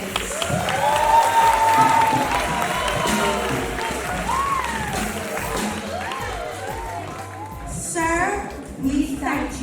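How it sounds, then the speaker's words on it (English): A crowd at the Jessie Ripoll Primary School graduation ceremony breaks into a loud round of applause with some cheering. Voices and shouts are mixed in, and the clapping fades and then surges again near the end. "Ladies and gentlemen, a round of applause for none other than our principal, Mr. O'Neill Stevens."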